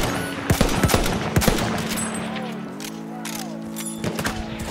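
Rapid bursts of gunfire in Battlefield 1, with loud shots clustered in the first second and a half, then a steady engine-like hum and scattered later shots, with a voice talking over part of it.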